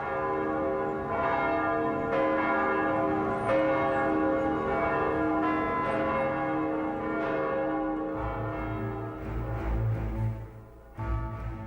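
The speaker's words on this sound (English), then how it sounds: "Every bell in Moscow's hundreds of churches rang out for the latest and last of the Romanov Czars." Church bells ringing across Moscow for a tsar's coronation. Many bells clang together in a dense, sustained peal with rich overtones, and a deep low rumble swells in near the end.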